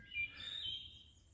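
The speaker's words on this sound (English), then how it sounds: "Listening to the wood thrush in the forest." A wood thrush sings in a forest in the northern Shenandoah on the Appalachian Trail at about 7 a.m. It is one short, faint phrase heard from a distance.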